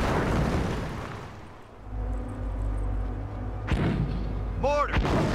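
Mortar shells thump and boom in the World War II strategy game Company of Heroes, with heavy rumbling blasts and battlefield noise; a voice breaks in near the end.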